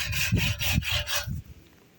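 Hand saw cutting through wood in a rural outdoor setting, four or five loud, close rhythmic strokes followed by a fading pause, with no talking.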